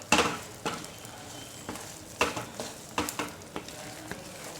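Jaggery and flour mixture for Gujarati sukhdi being stirred continuously in a pan, heard as repeated close scraping strokes at an uneven rhythm over a faint background, with no talking.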